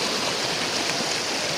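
Rainwater flowing across a damaged road near a farm after a night of heavy rain, turning it into a channel: a steady, broad rushing wash, close and constant, with no voices.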